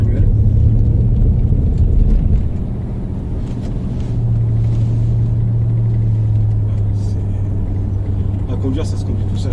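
An Audi A8 D2 car with a gearbox fault, driven in manual mode, gives a steady low engine and road rumble from inside the cabin, with a faint droning hum that holds throughout.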